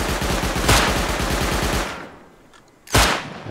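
Gunfire from the video game Red Island Raiders plays as a loud, rapid automatic burst of rattling shots. The burst fades out, then a single sharp blast follows near the end.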